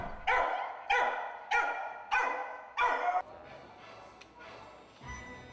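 Several dogs bark at an animal shelter, five loud, evenly spaced barks close by followed by quieter, scattered yips and whimpers in the background.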